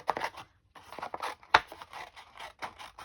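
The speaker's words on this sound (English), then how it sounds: "you can fussy cut these pieces" Scissors snip through paper and card while fussy cutting small pieces for a handmade Mother's Day card, a run of close, quick cuts and light scrapes with brief pauses between them.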